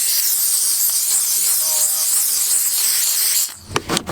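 A steam cleaner sprays a loud, continuous hiss for several seconds up close, cleaning a car, then cuts off, leaving some brief rattling handling noises.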